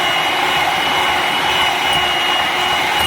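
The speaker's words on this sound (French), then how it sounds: "je continue à mélanger pour les serrer" An electric mixer whisks egg whites with sugar for a pear-chocolate charlotte, giving a steady, loud, close whirring drone that runs unbroken through the whole stretch.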